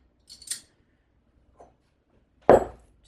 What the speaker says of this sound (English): I'm just going to trim off the ends and then using my garlic press here